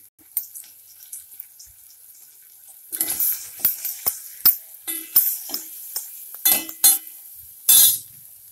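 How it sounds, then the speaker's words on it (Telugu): Spices and garlic paste being stirred in a pan while cooking a vegetarian Indian dish: a quiet start, then a run of brief scraping and sizzling strokes at a steady rhythm, close and moderately loud, with no talk. "ఒకసారి కలపండి."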